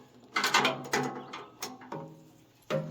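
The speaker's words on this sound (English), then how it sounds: "Now we're going to take our 5/8 socket in there" A ratchet fitted with a 5/8 socket tightens a bolt on a Liberty 3-point wood chipper, giving several bursts of quick, close clicking with short pauses and a final clatter at the end.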